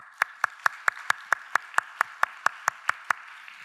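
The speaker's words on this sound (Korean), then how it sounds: "중등부에게 박수를." Applause in a church congregation for the middle-school group, heard as a slow, even series of about fourteen sharp claps in a steady rhythm, loud and close with a quiet background.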